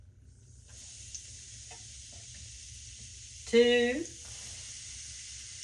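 Flour dropped into hot bacon grease for gravy sets off a sudden loud sizzle in the pan about halfway through, over a steady low frying hiss, with someone speaking briefly.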